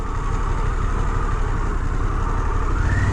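2023 Harley-Davidson Pan America Special motorcycle engine running in sport mode, a loud, continuous broadband roar with a steady low rumble and rushing noise and no pauses.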